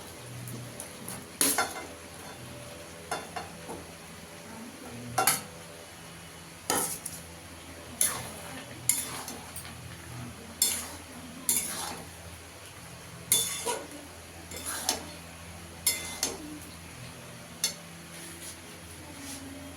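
Young jackfruit is sautéed in a pan with yogurt, under a low sizzle broken by a dozen or so sharp scrapes and clinks of a spatula against the pan at an uneven rhythm.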